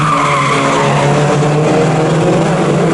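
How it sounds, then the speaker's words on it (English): A Mini JCW race car spins at the exit of a corner at Snetterton, its tyres squealing in a sustained skid over steady engine noise from the racing cars on track. "we've got a spinner on the exit of Williams on towards the Bentley Straight"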